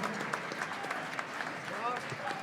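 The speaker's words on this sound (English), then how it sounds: "how about a big round of applause for all these wonderful students at NIU and Dr. Roosevelt Griffin" Audience applause for the NIU students and Dr. Roosevelt Griffin at an outdoor jazz festival, a steady moderate clapping from a crowd with voices mixed in and a few cheers.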